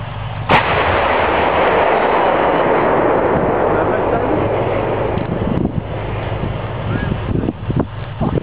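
Artillery guns of a battery firing outdoors in the Czech Republic, one sharp loud blast near the start followed by a long rolling rumble and wind noise, with some distant voices toward the end.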